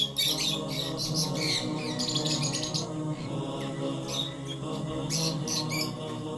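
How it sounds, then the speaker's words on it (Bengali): Lovebirds and sun conures in an aviary at a bird park in Moulvibazar, Sylhet, let out bursts of shrill chirps and squawks over a constant low hum. "এই যে পাখি দেখছেন, এটা হচ্ছে লাভ বার্ড, অর্থাৎ স্টেম পাখি।"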